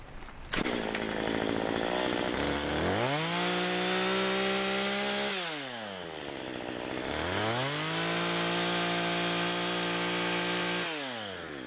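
A chainsaw cuts into wood while a morel mushroom is being carved, its engine revving up into two long sustained cuts with a drop to idle between them. It is loud and close, with no talk.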